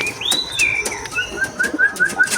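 A pigeon takes flight with a series of soft, quick wing claps, mixed with high whistling chirps and sliding tones close by.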